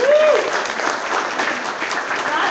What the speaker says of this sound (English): could we all give Jackie a big, huge round of applause?